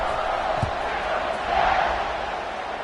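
A football stadium crowd roars steadily at kickoff during a USDA vs Auburn week-one game, a loud continuous wash of cheering with no break across the moment.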